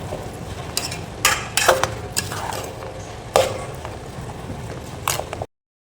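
Potato and cabbage poriyal stirred in a pan with rock salt, a spoon scraping and clanking against the pan in several sharp knocks over a continuous low sizzle, close and fairly loud.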